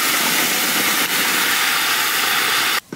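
Whole tempering spices hit hot oil for a Bengali chutney, throwing up a loud, dense, continuous hiss that cuts off abruptly near the end, with no talk.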